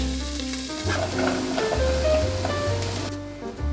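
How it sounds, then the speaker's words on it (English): Chopped vegetables and chicken sauteing in a pan, a steady loud sizzle with occasional stirring and crackle running through the whole stretch, no voices. "Washed my chicken, got the veggies chopped up, sauteing it."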